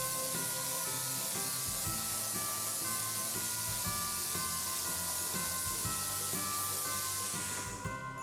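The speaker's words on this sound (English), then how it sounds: "let's pop in the drawers and spray them down" A paint sprayer applying primer to drawers gives a steady, continuous spray hiss throughout, loud and close, with faint rattling and shifting underneath, tapering off at the very end.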